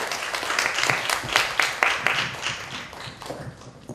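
A seminar audience gives a professor a modest round of applause, a brief patter of scattered hand claps at moderate distance that thins out toward the end.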